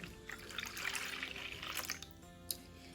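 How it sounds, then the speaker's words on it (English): One cup of room-temperature homemade buttermilk is poured into a medium bowl, giving a soft, close liquid trickle and gurgle that ends with a small splash. "In my medium bowl, we're going to add in 1 cup of buttermilk at room temperature."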